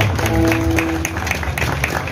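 An audience at a live Argentine folk music show applauds a band member, a steady patter of clapping from a crowd over a held instrumental tone.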